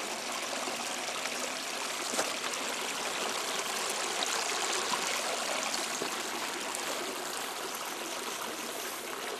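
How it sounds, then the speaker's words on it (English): A creek in the Grampians runs steadily, a close, even hiss of flowing and trickling water that holds at a constant level throughout, with no voices over it. "This is the creek."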